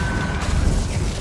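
An Incendio fire spell cast in Hogwarts Legacy bursts as a short, heavy, rumbling whoosh, loud and close, lasting about a second.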